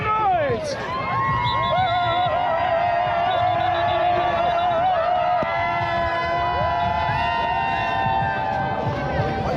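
Big outdoor crowd at an Eagles parade cheering, whooping and shouting continuously, loud and close, with a sustained roar of many voices and scattered nearby yells over a steady wash of sound.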